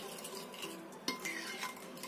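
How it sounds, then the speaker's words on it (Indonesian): Pumpkin cake batter mixed with coconut milk is stirred in a bowl, giving soft scraping and a light clink of the utensil against the side, close up and with no voices. "Kita aduk sampai tercampur rata."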